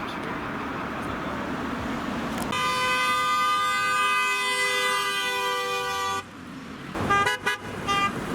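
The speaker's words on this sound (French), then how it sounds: "J'entends des coups de klaxon, c'est quoi cette histoire?" Car horns blare during a yellow-vest roundabout protest in Vilvoorde, a long sustained honk over traffic rumble followed by shorter bursts and street noise.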